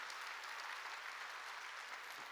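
A church congregation clapping hands together, a dense, even wash of applause that continues steadily and moderately loud throughout, with no voices on top.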